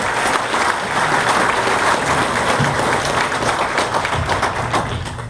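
An audience at an awards ceremony claps loudly and steadily as a presenter is welcomed to the stage, a continuous crowd-wide round of applause with a few sharper claps and thumps standing out, tapering slightly at the end.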